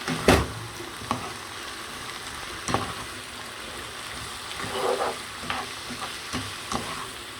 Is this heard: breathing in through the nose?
no